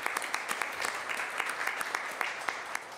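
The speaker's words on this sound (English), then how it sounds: "We can give a round of applause." People at a city council meeting break into a round of applause, a steady wash of many hands with sharper individual claps standing out nearby.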